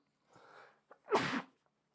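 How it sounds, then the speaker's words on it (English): A single sharp sneeze, preceded by a short breathy intake, close and fairly loud, then quiet. "Hold on a second, I gotta sneeze."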